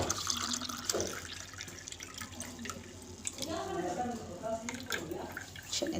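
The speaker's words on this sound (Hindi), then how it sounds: "अब गिलासों में शिफ्ट करते हैं।" Pomegranate sharbat pours into drinking glasses with a steady liquid trickle and splash, moderately close, while a voice speaks over parts of it.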